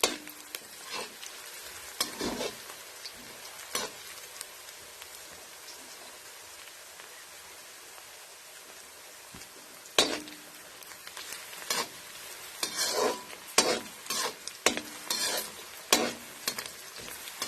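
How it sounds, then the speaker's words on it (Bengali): Onions fry in oil for a smashed brinjal and tomato bhorta, a continuous crackling sizzle broken by sharp scraping strokes of a spoon stirring the pan, close up and without speech. "একদম কড়া করে ভাজবো না, এবার আস্তে তুলে নেব।"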